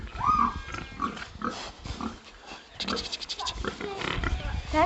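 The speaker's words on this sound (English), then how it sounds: "You can see the pigs." Pigs on a farm grunt and snort close by in several uneven bursts, mixed with voices talking.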